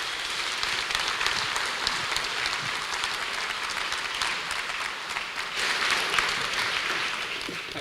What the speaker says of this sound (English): Please clap your hands together and welcome to the stage another Tom